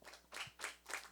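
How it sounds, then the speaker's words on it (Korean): Faint, scattered clapping from a small audience at a church-affiliated teachers' book talk, coming in three soft uneven bursts in a quiet room. "박수하겠습니다."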